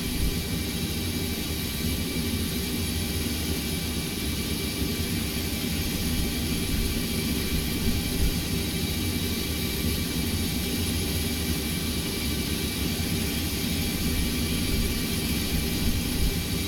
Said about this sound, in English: We can turn the engine on now.